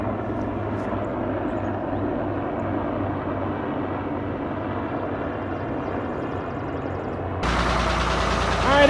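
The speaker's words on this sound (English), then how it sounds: "So we're gonna crank the tractor and see what happens." A tractor engine is cranked and drones steadily up close, a constant low mechanical rumble that grows louder and rougher near the end.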